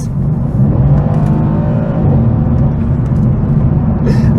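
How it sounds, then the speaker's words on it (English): A Mercedes-AMG C63 S coupe's V8 roars loudly and steadily through its sports exhaust, a dense sustained rumble held close for several seconds with a slight swell in the middle and no talking. "I've always been a big fan of V8, and it does not get much louder than this."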